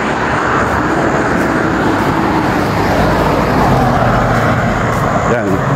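Cars passing on a quiet road at night in Equatorial Guinea, heard as a loud continuous engine and tyre roar with broad wind-like noise and a rise near the end.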